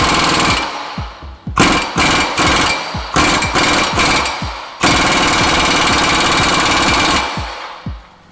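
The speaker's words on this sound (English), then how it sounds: "when I press the hub into the inner race, it doesn't blow the inner race out the back side." A 2006-2011 Honda Civic wheel hub is driven into its bearing's inner race in a bench press, producing loud, rapid bursts of metallic hammering that stop and restart in short clusters, with one long sustained run in the middle.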